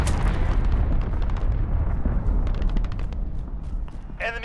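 Cruise missile blasts in Call of Duty Modern Warfare multiplayer rumble as heavy, continuous booming and debris crackle, loud and close, with a brief chirping effect near the end.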